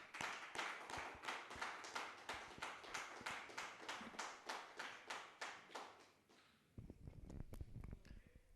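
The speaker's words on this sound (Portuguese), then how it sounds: "Vamos aplaudir o Senhor?" A church congregation claps in unison during a worship service, a loud, steady rhythmic beat of many hands that fades out, followed by scattered shuffling and knocks.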